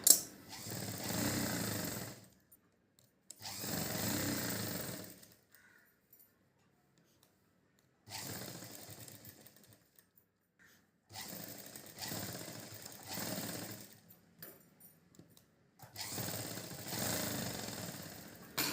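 A sewing machine stitches the shoulder seam of a child's silk skirt in short bursts of rapid mechanical whirring, each lasting a couple of seconds and separated by quiet pauses, close and without talk.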